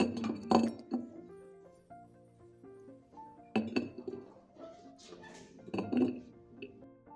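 Glass jars clink and knock as plums are packed into them for pickling, with several bright chinks and thunks coming in separate clusters close by.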